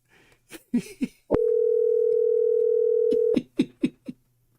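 A steady telephone dial tone after a call hung up holds for about two seconds, framed by short clicks and bursts of speech on either side.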